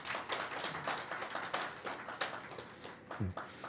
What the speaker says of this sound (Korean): 박수 한번 보내주시기 바랍니다